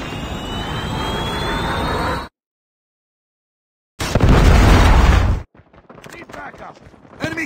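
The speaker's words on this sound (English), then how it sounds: "Friendly predator missile inbound." A Call of Duty predator missile strike lands as a loud, dense explosive burst after a roaring approach and a moment of dead silence, then fades into scattered battlefield noise.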